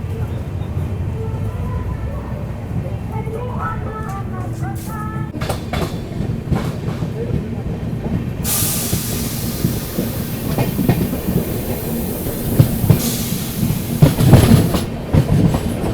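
A Panvel–Gorakhpur express train pulls out of Balrampur station, wheels clattering in a steady clickety-clack that builds with a rising hiss and rumble, loud and close from onboard, with faint voices early on.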